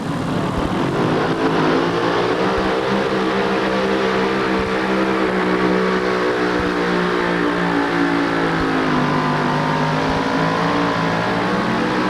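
A 1988 Chevy S10 two-wheel-drive pulling truck with an Aries engine runs at full throttle at a tractor pull in Syracuse, a loud, continuous high-revving roar that holds steady and slowly rises in pitch.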